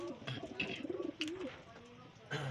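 Racing pigeons returning to their loft give soft, faint coos in a few short bursts, with brief rustling and a couple of sharp little noises in between.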